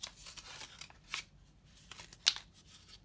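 A sharp blade cuts out maquette pieces, giving a few faint, brief scraping clicks spaced apart over a quiet background.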